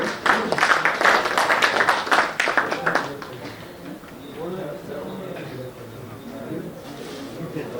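An audience at a mushaira in a hall claps loudly for about three seconds, a dense burst of applause that then fades into murmuring and a speaking voice.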